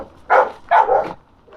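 A dog barks twice in quick succession, close and loud, followed by a faint short yip, with quiet background between.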